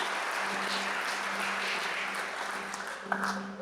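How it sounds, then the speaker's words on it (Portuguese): A church congregation applauds at a Sunday evening service, giving a steady, moderately distant wash of clapping that holds evenly for a few seconds before easing off at the end. "Aplauda o Senhor pela vida dessas pessoas."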